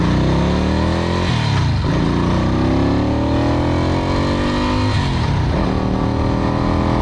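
A 1975 Moto Morini 3 1/2 Sport motorcycle is ridden and revved up the range, a loud, continuous engine note that climbs in pitch, drops briefly at gear changes, then climbs again.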